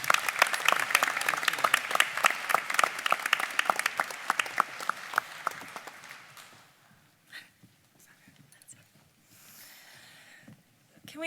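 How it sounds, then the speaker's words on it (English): Applause from an audience at a university honors medallion ceremony for program graduates: dense, fast clapping that is loud at first, then thins out and fades to a few scattered claps and faint murmurs. "Can we please give a big round of applause to our honors program graduates?"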